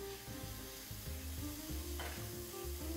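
Half a bar of Numar margarine sizzling in a heated pot, making a soft, steady frying hiss with a faint rhythmic bubbling underneath and no voices.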